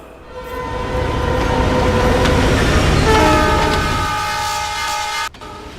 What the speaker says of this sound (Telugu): అలల శబ్దంతో పాటు రైలు శబ్దం కూడా వినపడుతోంది.